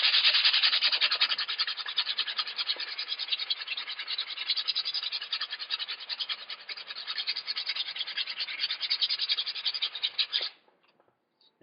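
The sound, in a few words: sanding rust off an axe with 40 grit sandpaper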